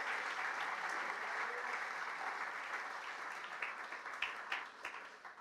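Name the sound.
congregation applause in church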